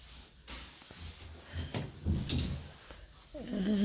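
Sliding barn door to a bathroom in a new country home, rolling and bumping along its track in several soft, uneven knocks and scrapes, fairly close.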